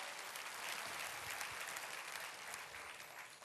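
A church congregation claps in a steady, moderately distant burst of applause that holds evenly throughout.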